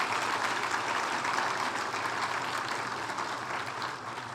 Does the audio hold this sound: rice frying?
no